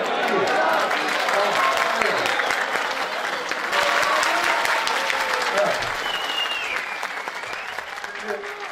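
Audience clapping at a school event for an Industry 4.0 project at a vocational high school in Sivas, Turkey: sustained, dense applause from a crowd that holds steady for several seconds, then slowly tapers off.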